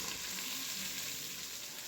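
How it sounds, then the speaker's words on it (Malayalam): Onion, green chilli and tomato sauté in oil for a chicken curry, a brief, even, close sizzle with a faint stirring texture and no voices. "അപ്പം നമുക്ക് നന്നായിട്ട് വഴറ്റി കൊടുക്കാം."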